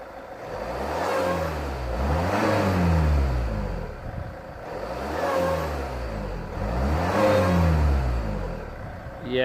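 A Land Rover Freelander 2 SD4 diesel, noisy under load and boost, is revved while standing still; four rising-and-falling revs repeat in a steady cycle, each swelling to a whirring peak before dropping back.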